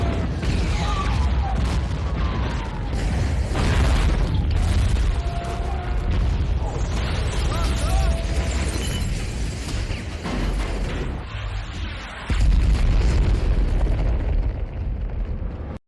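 Thanos's warship bombarding and destroying the Avengers compound: dense, continuous explosions and rumbling booms, loud and sustained throughout with debris crashing and no clear gaps.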